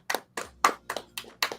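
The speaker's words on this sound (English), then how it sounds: "Everyone clap it up." A handful of distinct claps in a loose, uneven rhythm, close and fairly loud, at the end of a game round during a podcast, with a low steady hum underneath.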